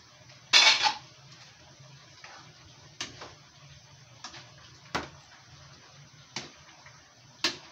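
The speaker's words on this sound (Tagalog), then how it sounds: "So, ilalagay na natin yung mga gulay." Sautéed vegetables tipped into cooked pancit bato in a pan, heard as a loud clatter followed by several separate metallic clinks and scrapes of a utensil against the cookware at steady intervals.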